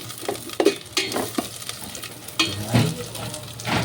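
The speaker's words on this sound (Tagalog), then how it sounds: "ilagay na natin yung ating squid ball igisa natin ng konti" Squid balls are sautéed in a pan for Batangas lomi, giving a soft sizzle with scraping stirs and intermittent clinks of a utensil against the pan, close and fairly quiet.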